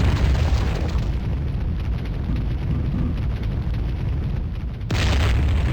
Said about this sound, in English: Let us throw some grenades.